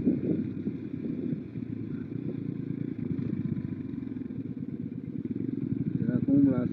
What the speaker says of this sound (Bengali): 3টে বাইক একদম পরপর ঢুকছি